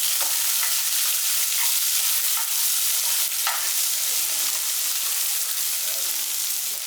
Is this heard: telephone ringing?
no